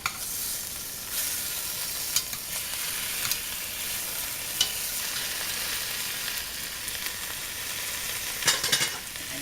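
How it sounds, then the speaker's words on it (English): German beef rouladen brown in a frying pan with a steady, close sizzle and hiss, punctuated by a few soft clicks and scrapes as the rolls are turned. "so you just want to keep flipping them, letting them brown on all sides"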